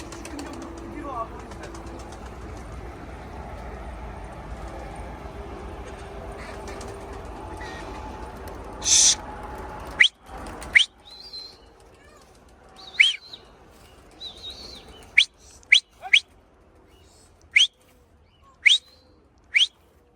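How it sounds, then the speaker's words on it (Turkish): A young bird gives sharp chirps and calls in bursts while being chased indoors, with a few soft flutters and faint voices in a quiet room. "Kuşu bir o yana bir o yana kovalıyorsun zaten."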